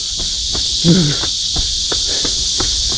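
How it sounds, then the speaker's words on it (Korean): A steady, shrill cicada drone runs without a break, loud and close, with faint jogging footsteps and a brief low sound underneath. "매미 소리 장난 아니다"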